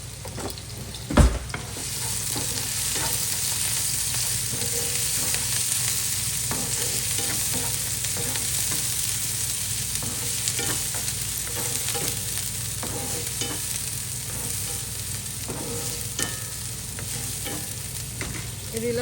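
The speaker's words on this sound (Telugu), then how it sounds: "ఒకసారి స్టిర్ చేయాలి దీంతో." Carrot, green chilli and other vegetables stir-fried in a hot pan for street-style veg noodles, a loud continuous sizzle with rhythmic spatula scrapes throughout and a sharp knock of utensil on pan near the start.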